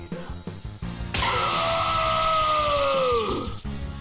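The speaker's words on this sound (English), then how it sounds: "A blood-curdling scream is heard by none other than Vegito" A long, loud anguished scream from the character Vegito as he is engulfed by destructive Hakai energy, rising and holding for about two seconds before trailing off, set against dramatic background music.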